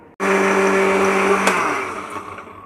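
A blender whirs steadily as it blends a biscuit milkshake made with condensed milk and cream, loud and continuous with a sharp start, then easing slightly toward the end.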